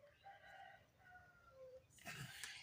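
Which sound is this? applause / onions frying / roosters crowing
roosters crowing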